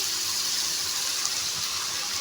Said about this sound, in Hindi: इस स्टेज पर मैं जो है ना वो दूध शामिल करने जा रही हूँ, बिल्कुल फ्लेम आहिस्ता से करके।